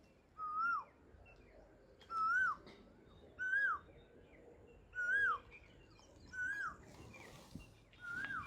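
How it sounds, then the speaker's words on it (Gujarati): An Asian koel near a village in Botad repeats its rising, whistled call six times at an even pace, about one and a half seconds apart, clear and alone over faint ambient noise. "કોયલ ટવકા કરતી હોય ને"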